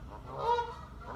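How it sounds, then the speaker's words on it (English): A goose on a river gives a single nasal honk that swells and fades within about a second, heard moderately close over quiet surroundings. "the swans and the geese are making a really big noise behind me"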